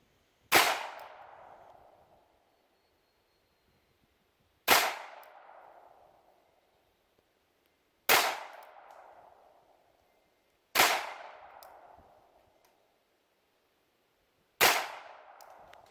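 Five sharp, loud single pistol shots from a Ruger SR22 .22 pistol, outdoors, spaced roughly three seconds apart, each with a short decaying echo; no talking.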